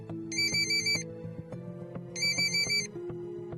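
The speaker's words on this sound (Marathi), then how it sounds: "तुझा फोन वाजू राहिला" A mobile phone rings with a bright electronic ringtone in two repeated bursts over a soft underlying musical bed, with no one speaking.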